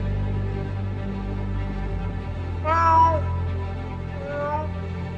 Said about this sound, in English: after 2 hours of looking for this stupid cat, he finds Jonesy